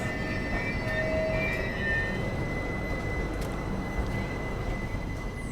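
Bandra Terminus–Jamnagar Humsafar Express passing at Kanakot station, heard from aboard another train: a steady broadband rumble of rolling coaches and wheels on rail, with faint high squeals, continuous and fairly close throughout.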